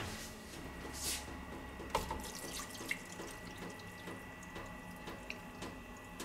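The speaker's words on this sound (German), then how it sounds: "dann fülle ich noch Wasser auf" Tap water runs into a pot being filled for a rib toastie on the grill, a steady close splashing stream with a few small clinks and drips along the way.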